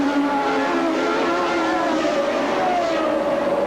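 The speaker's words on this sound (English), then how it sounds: "Now they come down for 3rd gear into the chicane." Formula One cars downshift into the chicane at the 1981 Austrian Grand Prix at the Österreichring, a loud, steady, high-pitched engine howl whose pitch slides down as the gears drop, with no break in the roar.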